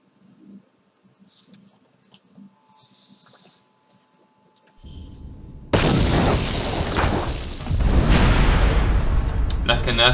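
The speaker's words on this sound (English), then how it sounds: "Jump in with the explosion and to expect the explosion." A deep explosion in the video game KOTOR II: The Sith Lords erupts after quiet ambient sounds, a sudden loud low boom that becomes a sustained rumbling roar, swelling again near the end.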